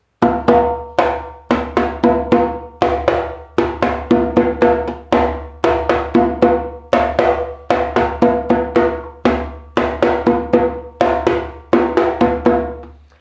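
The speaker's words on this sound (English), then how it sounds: "samba duro without the ghost notes, just the pure strong notes" A timbal drum plays a steady syncopated samba duro groove of strong, ringing open strokes, loud and close, with clear gaps between the hits and no soft filler notes.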